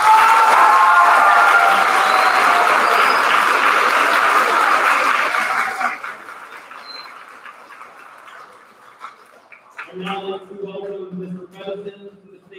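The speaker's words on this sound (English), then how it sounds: "Give yourselves and your friends one more big round of applause." Crowd applause at an 8th grade promotion ceremony, loud and continuous for about six seconds before fading out, followed by quieter scattered sounds and faint chatter.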